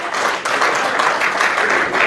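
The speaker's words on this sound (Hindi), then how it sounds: "देखिए वो ताली बजा रहे हैं" An audience at a public speaking event breaks into sustained, dense applause, many hands clapping loudly and evenly throughout.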